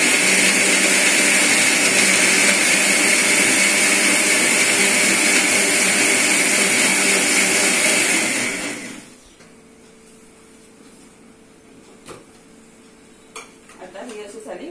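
Mixer grinder blending cooked vegetables with water into pav bhaji gravy, a loud steady motor whir for about nine seconds that then cuts off, leaving quiet room sound with a few light clinks.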